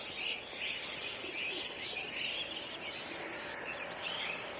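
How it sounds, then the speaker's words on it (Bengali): Pigeons in their loft give soft repeated calls and chirps, a moderate, continuous cluster of bird sounds with no talking. "এখানে সবগুলো কবুতর একটা চাকলায় আছে"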